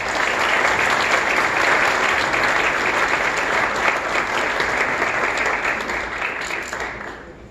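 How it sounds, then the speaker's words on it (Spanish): An audience at a summit event applauds an architect as he is welcomed to the stage, with dense, steady clapping from a large crowd that holds loud for several seconds, then thins and fades toward the end. "Por favor, un aplauso."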